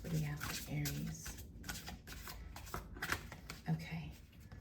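Tarot cards being shuffled during a zodiac love reading, a soft papery riffling and sliding that runs throughout, with a voice speaking over parts of it.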